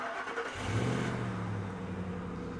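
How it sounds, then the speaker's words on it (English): A Ford Explorer's 4.6 liter V8 starts and revs up, a low rumbling surge that settles into a steady, smooth idle, heard close and alone without talking. "Probably the thing that I like the most about this Explorer is the engine."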